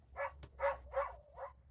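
A recorded dog on a children's farm-animal sound-button book barks four times in a quick, even series, each bark clear and close.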